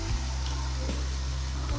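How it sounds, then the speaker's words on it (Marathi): Dal being fried in a pan with a little turmeric for a spicy dill-leaf (shepu) curry, a steady close sizzle running evenly through the short stretch, with a soft stirring bump near the start and end. "आता आपण याच्यामध्ये डाळ टाकून घेऊ।"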